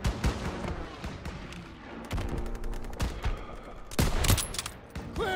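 Battlefield gunfire from the WWII shooter Call of Duty WWII: dense overlapping rifle and machine-gun bursts with sharp single cracks, loud and continuous throughout with louder shots near the end.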